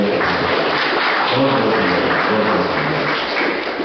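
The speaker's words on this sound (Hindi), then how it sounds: "फिर से जोरदार तालियों से हम लोग" An audience claps steadily for a speaker after a talk on healthy, happy living, a dense even patter of many hands that continues at a constant level.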